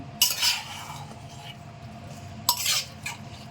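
Onion and mustard oil being worked into ground spices by hand or spoon in a bowl, giving two brief bursts of wet scraping and clinking against a quiet background, with a long pause between them.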